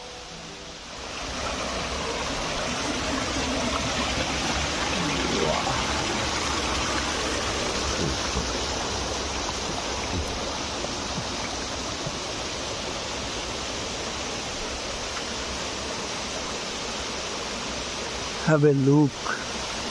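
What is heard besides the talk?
flowing water of the Sitakund waterfall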